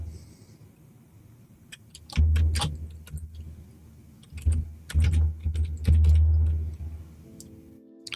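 Computer keyboard keys clatter in irregular bursts of quick, close clicks, with quiet pauses between flurries of typing.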